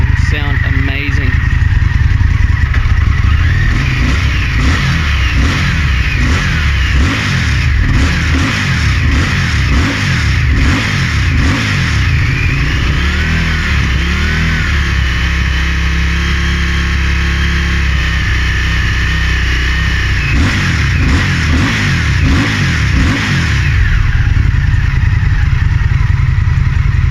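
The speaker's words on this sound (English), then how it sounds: "Once those baffles are out, this bike will sound amazing." An Indian FTR1200 motorcycle engine revs loudly up close, rising and falling in repeated throttle blips with a steady idle between them, while someone talks over it.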